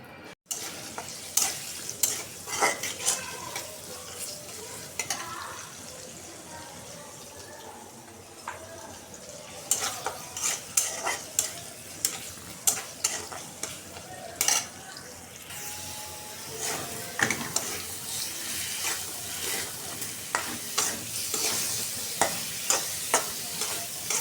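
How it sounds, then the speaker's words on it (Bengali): A curry sizzles in a wok that will later take prawns, with a spatula scraping and clanking in quick repeated strokes over a constant frying hiss that rises and falls through the stir. "এখন আমি এবার কড়াই বসাই দিচ্ছি, তরকারিটা রান্না করে নেব।"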